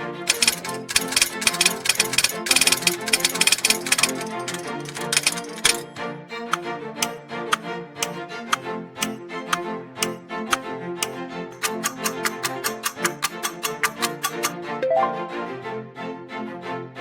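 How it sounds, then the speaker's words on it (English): Rapid mechanical clacking of a manual typewriter, keys striking in quick bursts, with a bell ding near the end; close and fairly loud, no voices. "That distinct clacking and bell ring belongs to a manual typewriter, specifically the carriage return mechanism"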